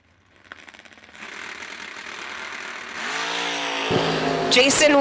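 At a winter drag race, a pickup truck and a wagon rev up and launch side by side, engines climbing from a faint idle to a loud, rising roar, with an announcer talking over it.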